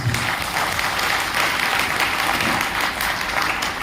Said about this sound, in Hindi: जोरदार ताली आप सभी के लिए